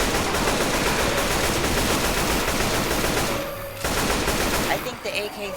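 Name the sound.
AK rifle gunfire in a zombie video game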